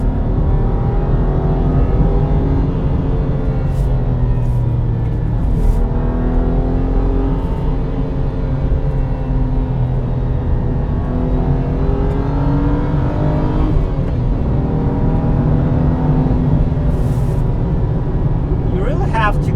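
A BMW N52 inline-six with an upgraded exhaust runs loud and close, climbing through the revs toward 7000 RPM, with rising and falling engine tones under steady road roar while someone talks over it.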